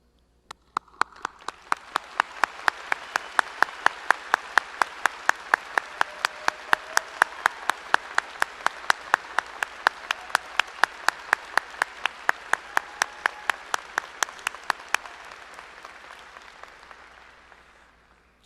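Audience applause fills a high school graduation ceremony for the class of 2020, a steady crowd of clapping with sharp individual claps standing out, lasting about fifteen seconds before fading away.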